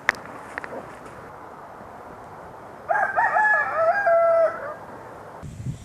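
A rooster crows once among free-range chickens outdoors, a loud, close, drawn-out call rising out of quiet background rustling, with a brief sound at the end.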